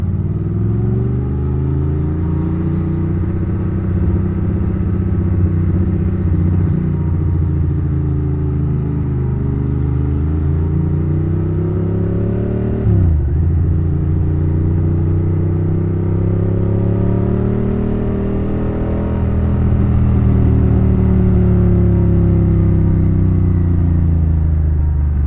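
A Ducati Monster S4 motorcycle engine drones loudly and steadily on a test ride, rising and falling through gear changes and a sharp dip midway, heard close and alone without talk.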